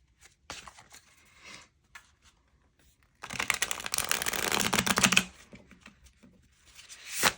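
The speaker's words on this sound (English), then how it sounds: "But most decks are hard to shuffle with this canvas." A tarot card deck being shuffled over a canvas surface, giving short soft riffling bursts and one longer, louder stretch of rapid card flutter, with quiet pauses between.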